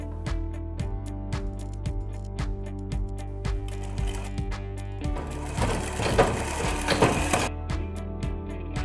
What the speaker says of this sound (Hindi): दूसरे साइड से भी ऐसे ही फोल्ड करके और सिल देंगे।